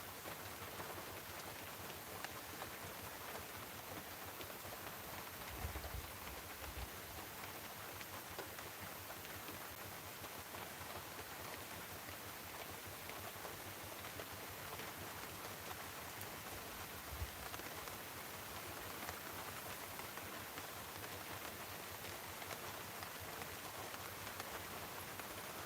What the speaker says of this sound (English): I do hate the sound of rain on the car when there's a storm.